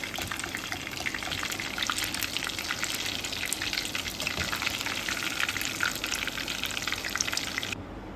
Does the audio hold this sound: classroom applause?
no